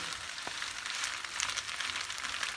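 Salmon frying in a pan, a soft, even sizzle with light crackling spits and one brief tap, close by and steady.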